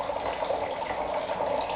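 Water pours steadily through a homemade drain gadget, a constant close splashing rush at moderate loudness with no talk.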